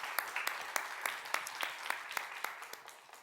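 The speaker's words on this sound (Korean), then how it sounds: "하나님께 영광의 박수 올려드리겠습니다." Church congregation applauding at the start of a youth worship service, a dense crowd of hands clapping steadily and loudly throughout, with sharper individual claps standing out.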